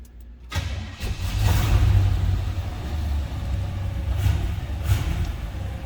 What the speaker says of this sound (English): Let's go ahead and fire it up so you can hear it run